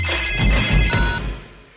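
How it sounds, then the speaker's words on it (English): A telephone ringtone trills loudly in a short burst in a movie comedy scene, with a steady electronic warble that fades toward the end. "Let's call her. It's ringing."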